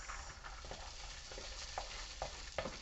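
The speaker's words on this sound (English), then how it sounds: "So now I'm going to add my rice." Rice tipped into a frying pan and stirred with fried onions: a soft, low sizzle with scattered spoon scrapes and light taps, fairly quiet and with no talk.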